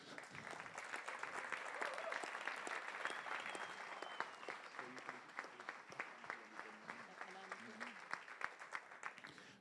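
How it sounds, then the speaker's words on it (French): An audience at a national earth construction award ceremony applauds, a full, dense round of clapping that gradually thins into sparser, more distinct individual claps, with voices murmuring beneath it. "Donc c'est Sylvie Weller que je vous demande d'applaudir."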